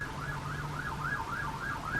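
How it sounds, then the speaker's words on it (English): Police siren wails in London, a steady rising-and-falling whoop repeating about every half second, moderately distant and heard alone with no talk. "I can never film a YouTube video without a police siren coming through"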